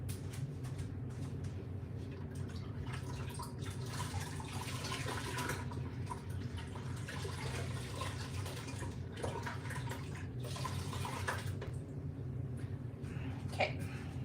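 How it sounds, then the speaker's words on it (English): A marbled carrageenan print on fabric is rinsed under running water, a steady close gush and splash that runs on without a break with faint handling noises. "So that's going to rinse off that excess on the surface."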